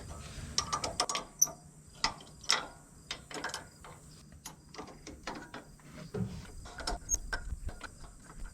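A bolt stripping on its threads on the exhaust of a Case 170B excavator with a Deutz diesel: repeated close ratcheting clicks and scrapes as a wrench works, uneven in rhythm.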